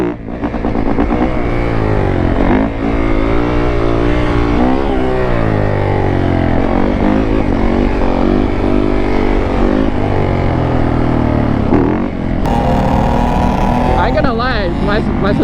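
A two-stroke dirt bike engine revs hard and close, its loud raspy buzz swelling and falling in pitch through repeated throttle blips, with a brief shift in tone near the end.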